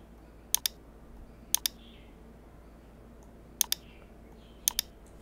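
Computer mouse clicks in a quiet room while editing a social media overlay in OBS, arriving as four crisp double-click pairs spaced a second or two apart, close and sharp over faint background hiss.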